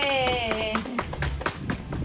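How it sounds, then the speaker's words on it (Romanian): Several people clap for Anastasia at a family gathering, with the claps standing out as uneven, distinct sharp hits at close range and a voice heard briefly at the start. "Haideți să o aplaudăm."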